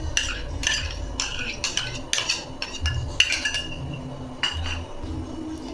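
A spoon clinks and scrapes against a bowl while mango juice is stirred into idli batter, giving a run of close, irregular metallic taps and rattles over a steady low background.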